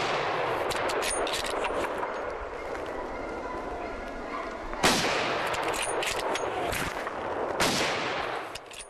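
Rifle shots ring out during a wild boar hunt: two sharp, loud cracks several seconds apart, with hunting dogs barking and yelping continuously throughout.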